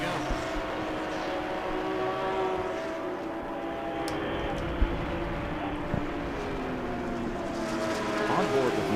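Race car at Road Atlanta heard from on board, a steady loud engine drone with shifting tonal harmonics as it runs along the track, with talk over it throughout.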